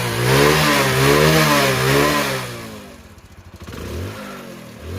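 A motorcycle rebuilt with a gas-welded silencer revs loudly up close in a rising and falling pattern, then drops to a lumpy idle before picking up again, with no voices.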